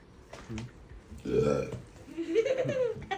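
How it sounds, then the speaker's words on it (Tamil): A person burps loudly after eating cake at home, with two drawn-out belches, one near the middle and another toward the end, amid quiet background chatter. "சாப்பிட்டுட்டு எப்படி ஏப்பம் எடுத்து போகிறேன்"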